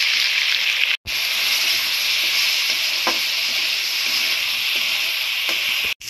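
Spices such as salt and turmeric fry in a hot pan with a steady, close sizzle and hiss, briefly broken by two short gaps, with faint stirring scrapes beneath and no voices.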